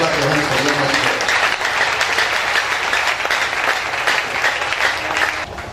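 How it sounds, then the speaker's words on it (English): A church congregation claps loudly and continuously in praise, a dense, sustained burst of many hands with crowd noise mixed in, dropping off just before the end. "Use your clap, clap your hands for your mighty God."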